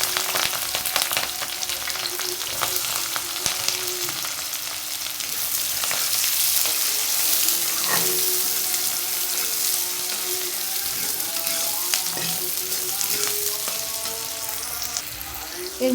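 Whole cumin seeds tempering in hot oil in a wok (kadai) for a Bengali bata fish curry, giving a steady, close crackling sizzle that holds for the full stretch with faint pops and no speech.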